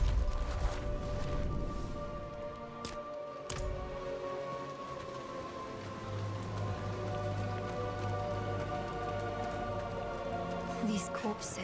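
Steady rain falls in the dark fantasy game Diablo IV, a continuous wash of patter with a low rumbling ambience and a few brief louder knocks, no voices.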